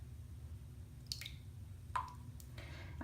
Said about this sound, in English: That dripping faucet, y'all, drives me crazy.